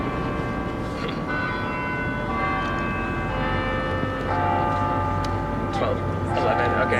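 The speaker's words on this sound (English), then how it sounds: "bells." Church bells ringing out at a press conference, several sustained tolling tones layered over steady crowd murmur and background noise, with people talking throughout.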